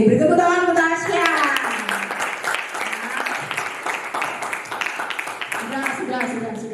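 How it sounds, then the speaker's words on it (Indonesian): A classroom of students clapping for a classmate, a steady patter of many hands at moderate loudness, with a teacher's voice speaking over the applause at the start and end. "beri tepuk tangan untuk Tasya"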